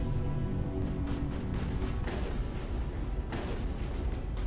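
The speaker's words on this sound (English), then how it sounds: "Something's shooting at me." Gunfire in the Mass Effect video game, shots aimed at the player: a dense, continuous barrage of booming rounds with sharper bursts cutting through, loud and sustained throughout.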